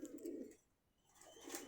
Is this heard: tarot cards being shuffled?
no